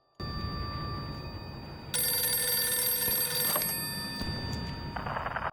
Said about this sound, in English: what else can you do with a ringing phone but answer it?